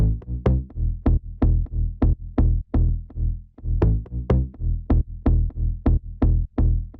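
A tech house bass line built from layered samples pulses in a steady, punchy rhythm of short, deep notes, loud and continuous with no talking.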